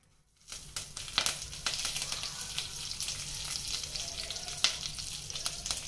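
Mustard seeds, cumin and curry leaves hit hot oil after a brief silence and burst into a busy sizzle, with sharp pops and crackles scattered through it, close and fairly loud.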